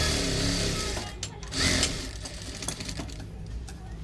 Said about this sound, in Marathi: आपण अंडरलॉक साईडने आता अर्धा इंच स्टिच पहिल्यांदा आपल्याला बरोबर अंडरलॉक स्टिच करताना अर्धा इंच स्टिचिंग करून घ्यायचं